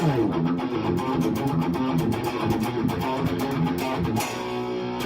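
A distorted electric guitar plays a fast riff with alternate picking, each note evenly spaced and steady in rhythm, loud and continuous.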